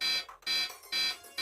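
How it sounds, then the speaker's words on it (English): An electronic alarm blaring in loud repeated bursts, three harsh buzzing pulses separated by short gaps, close and steady with no voices. "alarms sounded at the most sensitive scientific devices ever constructed"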